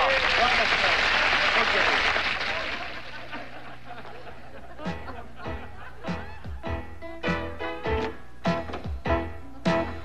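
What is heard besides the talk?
studio audience applause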